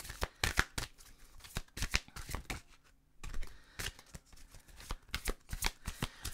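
Oracle cards riffle and slap together in a close, quick shuffle before an advice card is drawn, with a brief pause midway before the rapid flicking resumes.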